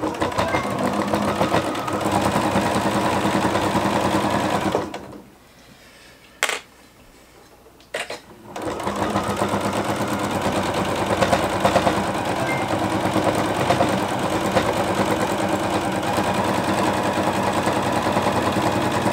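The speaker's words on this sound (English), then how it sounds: "So now I'm going to put this through the sewing machine and sew all the way across" A sewing machine stitches a quilted tote bag in a fast, steady mechanical chatter, stops for a few seconds with a couple of clicks, then resumes stitching.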